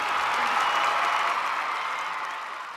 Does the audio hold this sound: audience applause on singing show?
yes